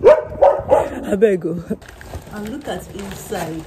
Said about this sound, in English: Oh my god, that was a dog.